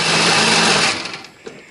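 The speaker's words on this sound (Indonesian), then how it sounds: "Hari ini aku menghaluskannya pakai blender." An electric blender grinds garlic and shallots, a loud, close whirring roar that holds for under a second, then quickly winds down and fades to a faint tail.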